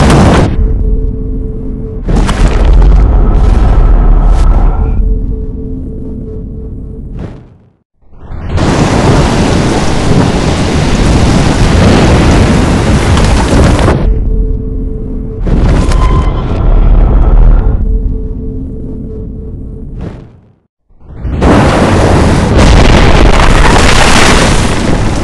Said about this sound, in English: I've never seen a storm like this before.